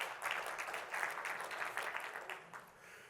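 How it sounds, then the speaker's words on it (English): Audience clapping at a conference session on Azure OpenAI, a steady wash of many hands that holds strong for about three seconds, then begins to thin toward the end. "let's give Chris a round of applause, too."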